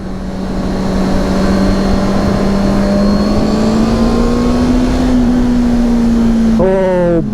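A 2023 Honda CBR650R sport bike at full throttle, its engine holding a loud, steady high-pitched whine that climbs gradually, mixed with rushing wind; a rider speaks briefly over it near the end.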